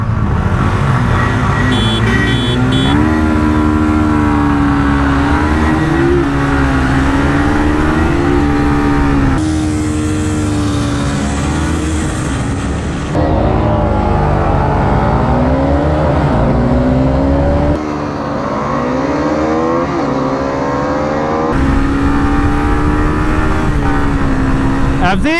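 Yamaha FZ25 and R15 motorcycles accelerate hard in a drag race, engines revving up and shifting through gears in repeated rising sweeps, loud and close throughout, with voices audible at times over the engine noise.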